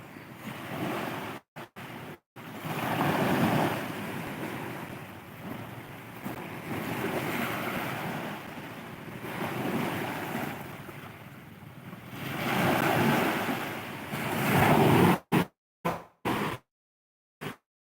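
Ocean waves surge and wash in long swelling rushes, rising and falling over several seconds, with wind noise and a few abrupt cuts near the end.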